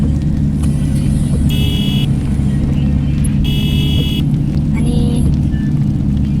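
Busy road traffic of cars and buses, a heavy continuous engine rumble close by with a few short horn toots and beeps cutting through.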